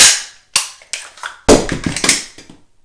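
Rapid pistol shots on a shooting range during a speed reload drill: sharp loud cracks in two quick bursts, a few spaced shots, a short pause, then a faster cluster of reports with metallic clatter between them.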